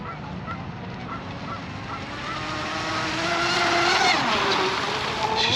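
Geese honk repeatedly near a pond while a racing RC hydroplane boat whines across the water, the bird calls layered over the boat's rising buzzing engine.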